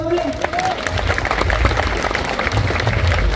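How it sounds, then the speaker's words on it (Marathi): Crowd applauding for a mridang drummer at a Shivrajyabhishek ceremony at Raigad fort, a steady, dense wash of clapping that holds throughout, with a brief voice at the start. "मृदुंगासाठी टाळ्या होऊन जाऊ दे।"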